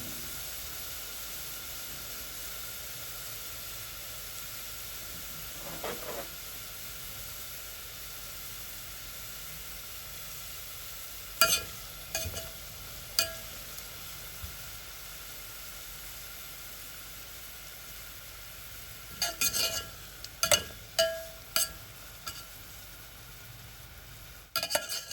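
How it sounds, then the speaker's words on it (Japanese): Onions deep-fry in hot oil for chicken biryani, a low, steady hiss and sizzle that runs throughout with occasional sharp crackles and pops from stirring, no voices. "玉ねぎの水分があるうちは大きな揚げる音がしていますが、あるタイミングを境にシュンと音が消えるんです。"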